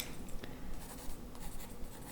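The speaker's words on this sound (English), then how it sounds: "I'm gonna write that down." Pen scratching notes onto paper during a mock cranial nerve examination, a continuous close-up scribbling with small strokes and pauses, with no one talking.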